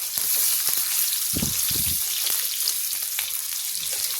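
Potatoes frying light brown in a pan, sizzling steadily up close, with a few soft stirring scrapes partway through and no talking.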